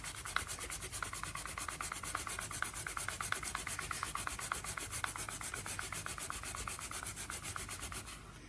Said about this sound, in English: I'm going to rub it in using the brush.